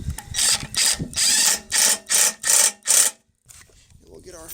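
An impact wrench loosening a large bolt on a push mower: six loud, close bursts of rapid hammering rattle in quick succession, then a short quiet gap and a softer fainter tail.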